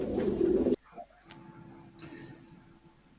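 Racing pigeons coo softly in a loft, low murmuring calls after a brief burst of noise, faint and close with scattered small clicks.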